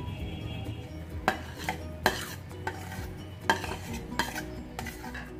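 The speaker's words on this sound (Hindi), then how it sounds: "मिक्स करेंगे" Spoon stirring grated tomato into kaleji (liver) masala in a pan, with several distinct metallic scrapes and clinks at irregular intervals over a low background hum, fairly close and moderately loud.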